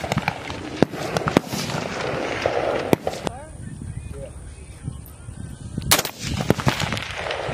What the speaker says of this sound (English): This is going to be that 300 yard launch, slow fire, firing 5 rounds.